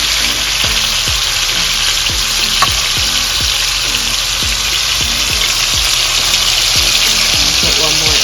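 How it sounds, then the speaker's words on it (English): Chicken pieces sear in a pot for Jamaican brown stew chicken, a loud constant sizzle with regular clinking knocks as pieces are moved around, a steady hum underneath. "Now we're browning the chicken."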